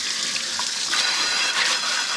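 Tap water runs steadily into a kitchen sink while a dish is rinsed under the stream, a continuous close hiss and splash that shifts slightly in intensity, with no voices.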